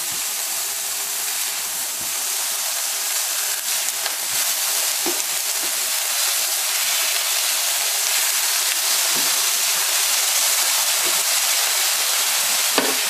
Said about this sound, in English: I have 4 of the patties in the frying pan at this point.